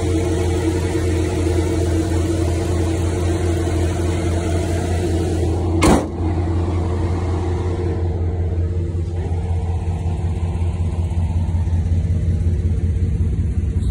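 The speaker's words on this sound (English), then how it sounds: "Sounds like an old car still," A 1962 Chevrolet Impala V8 with glass pack exhaust gives a deep, steady engine rumble with a throaty exhaust drone throughout, close and loud, with a brief sharp knock midway.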